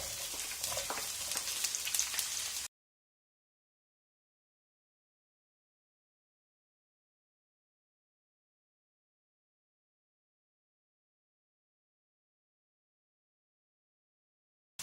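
Chopped onions added to garlic in a pan for a bread egg masala give a soft, steady sizzle for a few seconds before the sound cuts to silence.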